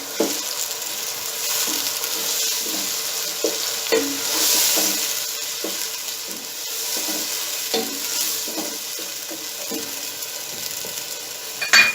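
Half a kilo of chopped tomatoes sizzles in hot oil and masala for a behja fry, a steady close frying hiss broken by repeated stirring scrapes, no talk.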